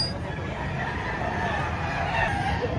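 Chickens at a busy poultry market in Padre Garcia, Batangas, with steady crowd noise and murmured voices; clucking and crowing are faint and mixed into the constant background din.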